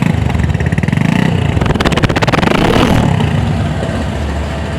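A Bajaj Discover 135 cc motorcycle in fresh condition runs steadily close by, its engine putting out a smooth, even, continuous drone with a fine rapid pulsing throughout. No one speaks.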